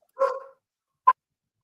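A dog barks twice, close and fairly loud: a longer first bark followed by a short sharp one, then quiet.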